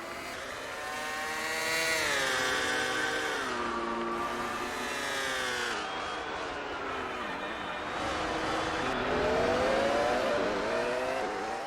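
A Renault Formula 1 car engine in the racing game F1 2002 wails at high pitch, its tone climbing and dropping through gear changes in one loud, continuous run with no break.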